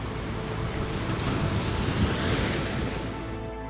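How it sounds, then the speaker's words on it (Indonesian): Ocean waves roll continuously against the shore of Masalembu Island in Indonesia, a steady, wind-blown wash of surf with no voices. "Dikelilingi oleh ombak yang tak henti-hentinya bergulung."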